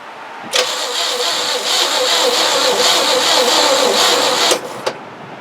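A 1962 Chevy with an ignition fault cranks on its starter for about four seconds without firing, a steady loud close whirring churn that stops abruptly.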